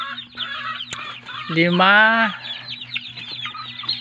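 Farmyard hens clucking close by, with one drawn-out, rising squawk in the middle amid softer clucks and a steady background hum, while a man counts in the background.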